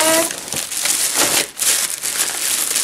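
A plastic shopping bag is crinkled and rustled close up, a loud continuous crackling that swells and dips, with a short pause partway through.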